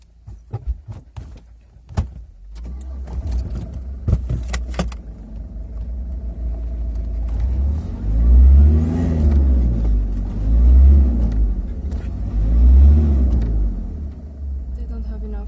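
A car engine revs hard in three long, rising surges while trying to tow a van stuck in place, loud and close, after earlier door and key clatter and with people talking.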